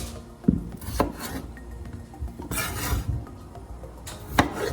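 A knife cuts yellow and red potatoes into halves and quarters on a board, giving irregular knocks and clacks with scraping and handling sounds between them.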